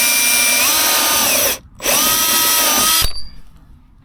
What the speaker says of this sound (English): now let's drill one here